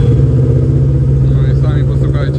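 A 2014 Kawasaki ER6N motorcycle fitted with an IXIL exhaust starts and settles into a loud, steady idle close by, with a deep even throb throughout.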